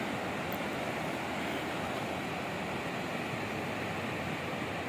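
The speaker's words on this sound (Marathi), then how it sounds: "लाटा बघा कशा एकदम मस्त यायला लागल्यात" Sea waves roll and break in a continuous broad wash of surf, an even steady roar without distinct pauses and with no talking.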